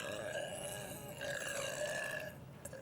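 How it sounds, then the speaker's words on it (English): A girl burps loudly in a grocery store, a drawn-out, tonal belch running nearly three seconds with a short pause midway and a faint click at the end. "She just burped all over this creamy butter"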